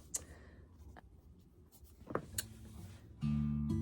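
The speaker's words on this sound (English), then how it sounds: "Something about it feels kind of cool and I'm gonna write it down." A pen or pencil scratches out song lyrics on paper in short, faint strokes and taps, close by, before a sustained musical tone comes in at the end.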